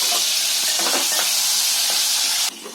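Mustard seeds, cumin, curry leaves, chillies and garlic crackle and sizzle in hot oil for tempering, a loud, steady frying hiss that drops off abruptly at the end.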